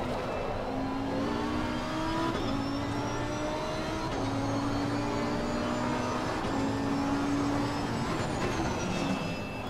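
Race car engine in the sim racing game Assetto Corsa Competizione, droning steadily with rising gear-by-gear pitch sweeps and shifts, loud and continuous throughout with no talk.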